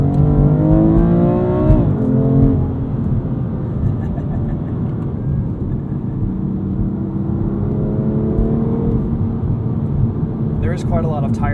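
Michelin Pilot Super Sport tires on a 2021 BMW M2 Competition with DCT make a constant loud roar from inside the cabin, under the engine note, which rises and shifts through gear changes.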